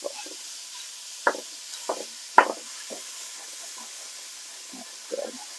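Lamb mince sizzling in a hot pan under a steady hiss, with a spoon knocking and scraping against the pan as it breaks the meat apart in sparse, irregular taps.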